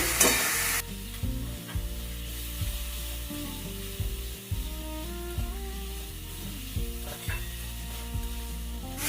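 Fish sautéed with turmeric and chili powder in a pan gives a steady, moderate frying hiss with occasional stirring scrapes, played under background music.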